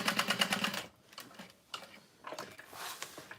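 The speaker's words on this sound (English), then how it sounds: "I'm going to back stitch and sew down." A domestic sewing machine stitches in quick rapid ticking runs, a short burst, a pause, then more back-and-forth stitching, fairly faint and close with no talk.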